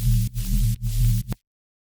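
A synthesized sine-wave tone, low and steady, sounds in three sustained bursts separated by brief gaps, then cuts off abruptly into silence.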